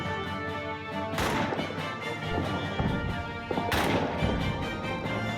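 Video game trench fighting with close-range gunfire and grenades: repeated sharp shots crack in quick succession, with two heavier blasts standing out, loud and near, over constant battlefield din.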